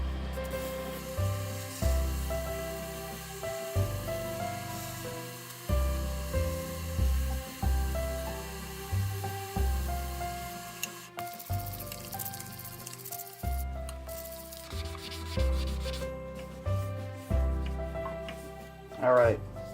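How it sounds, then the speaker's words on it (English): A small wooden woodpecker ornament is hand-sanded with 320 grit sandpaper, giving repeated scratchy rubbing strokes in a steady rhythm about every two seconds. A faint tonal background hum sits underneath. "I'm going to move up to a 320 grit now"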